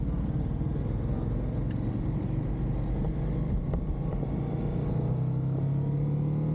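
A motorcycle engine drones steadily from the rider's position as the throttle opens, a continuous low rumble with a rising pitch toward the end, wrapped in constant wind roar.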